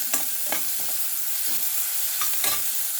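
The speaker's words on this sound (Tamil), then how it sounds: "அந்த உப்பு போட்டு நம்ம நல்லா வதக்கிடலாம்" Onions sizzle steadily in hot oil with salt for Chettinadu oil brinjal, while a spoon scrapes and stirs the pan in regular strokes, close and loud.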